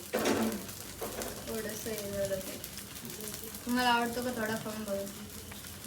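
Dosa batter fries in oil on a pan with a steady sizzle beneath talk in a home kitchen during a family holiday gathering, along with a few faint clinks.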